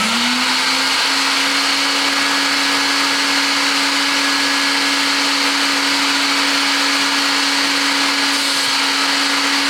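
Carpet extractor doing dry strokes over a wool rug, a steady loud whining motor drone with a constant high tone, running evenly the whole time with no talk.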